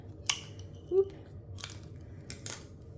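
Scissors snip through a paper straw while making paper flowers for a craft hoop, a few sharp close cuts spaced out over a quiet background.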